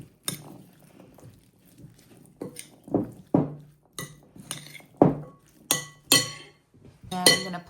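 A spoon mixing chickpea salad with pesto in a glass dish, giving a string of clear clinks and scrapes that come in irregular, close bursts with brief quiet gaps between them.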